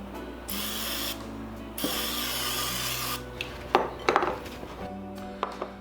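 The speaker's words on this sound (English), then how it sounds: "got my little misto here, and I'm just gonna start coating these guys" Misto oil sprayer misting steak fries for an air fryer: two short hissing sprays, close and fairly loud, followed by quieter taps and rattles of handling.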